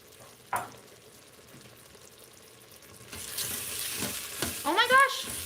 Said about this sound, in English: Instant Pot is not good for this kind of saute.